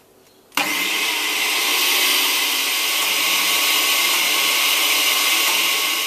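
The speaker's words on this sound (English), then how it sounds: "we want to blend this or process it in a food processor to liquefy it" Food processor running on high while blending ground hazelnuts into a paste, starting abruptly after a brief quiet moment and then roaring steadily and loudly with a dense whirring motor tone, no talking.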